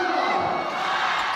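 Home and away fans roar together at a Hyundai Hillstate versus Red Sparks volleyball match, a dense, steady crowd cheer filling the arena at close range with no break.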